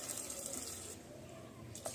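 Water being poured into a pot of rasam during home cooking, a soft steady trickle and splash at close range, running alone for about two seconds without any talk.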